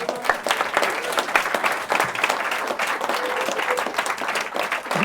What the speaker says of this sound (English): So can we have a round of applause for Keshava Swami?